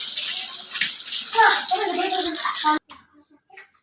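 Water gushes steadily from a hose pipe while a cotton rug is washed outdoors, with children's voices over the flow, then cuts off abruptly near the end, leaving brief faint sounds.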